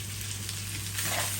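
Sisig fries in a little oil in a pan, giving a dense, steady sizzle with a low hum underneath, close and continuous throughout the short stretch without voices.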